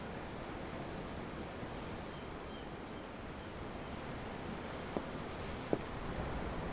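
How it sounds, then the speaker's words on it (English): Ocean waves wash continuously in the Tales of Arise game as a soft, steady broadband rush, faint and unbroken, with a couple of tiny clicks near the end. "I'm looking at the ocean. The ocean?"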